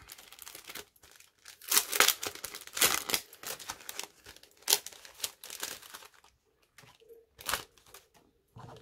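Sticker sheets and pouch packaging are handled close by, giving soft plastic crinkles and rustles in irregular bursts, with quiet gaps between the handling sounds.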